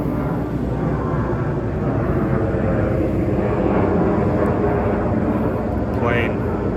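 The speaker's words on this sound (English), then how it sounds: "plane." An airplane passing overhead at a 49ers training camp, a steady, loud broadband roar that holds throughout, with someone talking over it.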